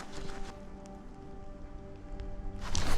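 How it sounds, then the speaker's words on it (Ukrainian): Rain patters steadily outdoors during a winter perch fishing trip, a soft, even crackle that swells slightly at the end, with no voices. "І розпочався відразу у нас дощ."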